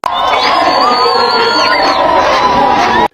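A dense crowd of protesters outside a police station shouts and roars loudly and continuously, then cuts off abruptly.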